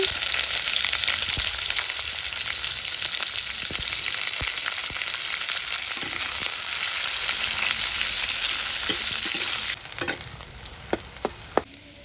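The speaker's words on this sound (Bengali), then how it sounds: "শুকনো লঙ্কা দিয়ে দিয়েছি এবার হলো পাঁচফোড়ন দিচ্ছি পেঁয়াজ কুচিটা দিয়ে দিচ্ছি" Chopped onions frying in hot oil in a kadai with dried red chilli and panch phoron, a loud continuous close sizzle with stirring scrapes, easing slightly near the end with a few sharp clicks.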